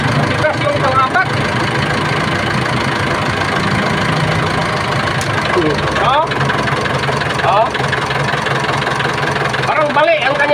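A diesel engine runs roughly, with a continuous uneven idle and a knocking rumble throughout, close and fairly loud, with occasional faint voices over it.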